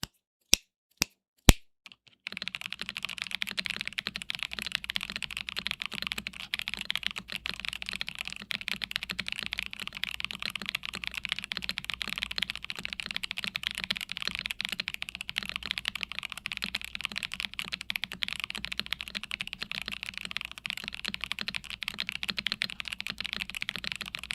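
Modded 75% mechanical keyboard with an FR4 plate: a few isolated sharp keystrokes, then continuous fast typing, a dense stream of crisp clicky-thocky key presses, close and steady for about twenty seconds.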